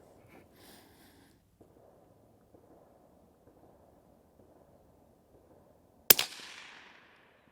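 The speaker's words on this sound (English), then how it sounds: "I think everybody and their uncle is outside shooting" A single sharp rifle shot from a Ruger Precision Rimfire in 17 HMR or 22 WMR cracks loudly outdoors and echoes briefly after several seconds of quiet background ambience.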